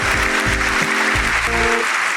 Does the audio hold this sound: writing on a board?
no